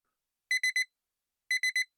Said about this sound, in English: Doesn't this alarm though bring some memories?